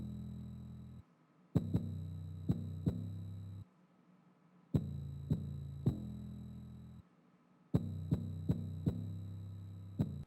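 A trap beat with deep booming 808 bass from the R-Bass plugin, thumping in irregular rhythmic clusters with short gaps of near silence between phrases, fairly quiet and with no voices.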